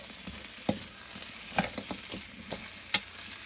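Vegetables sautéing in a pan for a coconut sweet chili stir fry, a quiet steady sizzle broken by sharp scattered clicks and scrapes of a utensil stirring, close by, with no one talking.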